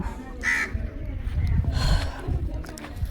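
Crows cawing around a house garden with lemon plants, a few harsh caws at moderate distance over steady outdoor background noise.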